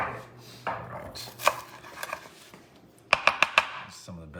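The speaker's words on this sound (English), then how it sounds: "Some of the best onion chopping you'll ever see, at least on Facebook." Sharp knife strokes chopping onions on a cutting board, scattered single cuts followed by a quick run of four crisp, close chops, with faint kitchen background and light talk.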